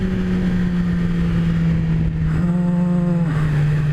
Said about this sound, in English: this thing screams when it's in high revs